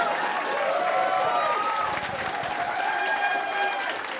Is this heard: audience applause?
yes